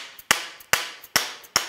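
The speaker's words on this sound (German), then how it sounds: "Ich werde jetzt diesen Hammer brauchen, um das hier rauszubekommen." A hammer knocks a tight-fitting tube off a rod in a home workshop, four sharp metallic blows struck at a steady, even pace, loud and close with no talk.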